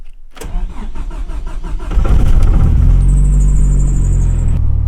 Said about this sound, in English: I haven't started this car for like, I think, a month